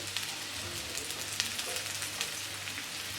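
Sliced onions dropped into hot oil with curry leaves, frying for a Kerala chicken roast; a steady, close broadband sizzle with small pops and crackles throughout, no voices.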